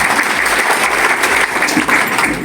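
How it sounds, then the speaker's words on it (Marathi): Audience at a school parent-teacher meeting clapping steadily and loudly throughout, a dense continuous wash of many hands close to the listener with no pause. "त्यामुळे टाळ्या वाजवत राहायला पाहिजे"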